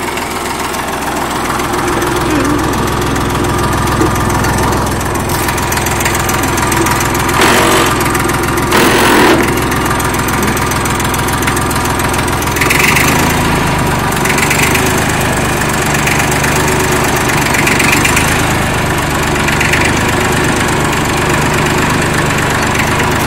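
A 1960s Fordson Dexta tractor engine runs steadily at close range, a loud, rough diesel chug with knocking beats and vibration, holding an even pace with occasional clanks.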